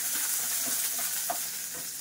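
Shallots sautéing in a hot pan for a temple-style tamarind rice and banana-stem chutney meal, a steady close sizzle with light stirring scrapes and no talk.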